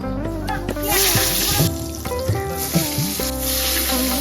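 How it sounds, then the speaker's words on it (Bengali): Eggplant slices frying in darkened, well-used oil during preparations for a Kali puja, a steady close sizzle with some clatter and voices talking over it. "এই তো বেগুন হচ্ছে ভাজা"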